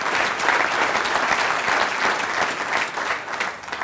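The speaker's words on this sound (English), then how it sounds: "Give him a round of applause." Steady, dense applause fills a room at a Touchdown Club luncheon, loud and even throughout with a slight dip at the end.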